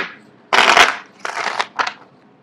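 Tarot cards being shuffled up close in three quick riffling bursts, one long and two shorter, with no talking.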